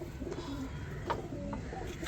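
Pigeons cooing faintly inside a breeder's cage, a few soft low coos over a quiet background.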